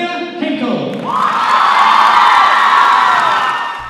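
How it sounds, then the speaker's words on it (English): A crowd in a high school gym on a girls' basketball senior night erupts into a loud, sustained roar of cheers, whoops and applause that swells after the first second and holds steady. "There is a roar of applause in the Rochelle Township High School gym Monday night"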